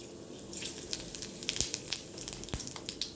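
Whole cumin seeds hit hot oil left from frying pointed gourd, spitting and crackling in quick irregular pops over a soft steady hiss, fairly quiet and with no voices.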